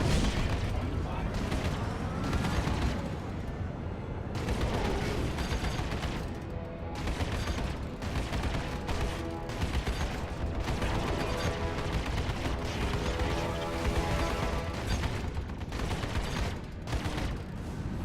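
Dense, sustained weapon fire in the space combat game Star Citizen, a thick, unbroken roar of shots and mechanical noise lasting throughout, with voices speaking over the barrage.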